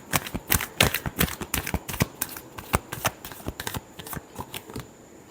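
Tarot cards being shuffled for a final time, giving a quick run of crisp riffling snaps and flutters in an irregular burst rhythm, close and clear with no voice over it.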